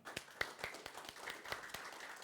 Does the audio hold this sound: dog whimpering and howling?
no